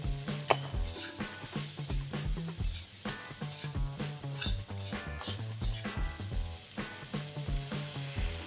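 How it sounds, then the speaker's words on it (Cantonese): Chili, shallots and ginger stir-fry in a wok, with a soft sizzle under busy scraping and clattering of a spatula, set against background music. "指天椒、乾葱頭，加埋啲薑，一齊爆香佢。"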